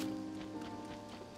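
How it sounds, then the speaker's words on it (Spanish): Rain falls steadily in the video game Zelda: Tears of the Kingdom, a faint, even hiss of drops with a soft rustle and no clear voices over it. "ya está lloviendo, loco"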